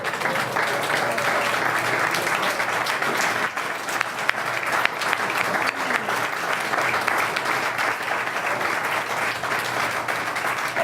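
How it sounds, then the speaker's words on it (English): Loud, sustained applause from a comedy night crowd cheering the assembled comedians, a thick continuous wash of clapping that holds at full strength throughout. "so y'all can give them a round of applause."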